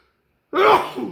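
A single sharp sneeze bursts out after a moment of silence, close and loud, trailing off into a short breathy tail.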